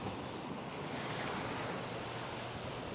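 Steady wash of ocean surf with a constant hiss, rolling evenly throughout, with a windy, breezy texture and no distinct breaks.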